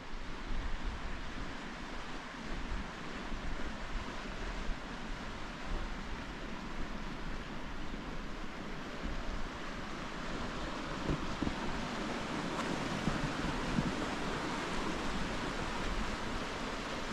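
Steady wind blowing outdoors on an autumn walking trail in Almaty, a constant broadband rush with gusty fluctuations and no voices.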